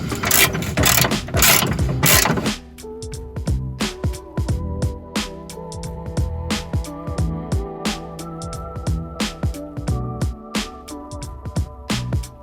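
A ratchet clicks steadily while removing the crown nut from the lower control arm ball joint on a Miata, with a brief burst of louder noise before a long run of close, rhythmic pawl clicks and no voices.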